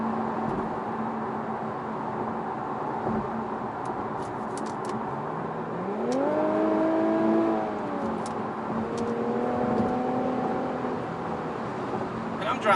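Infiniti Q50 Red Sport sedan driven hard in automatic mode, its engine droning steadily with a rising surge as it accelerates through a gear, heard from inside the cabin without talk.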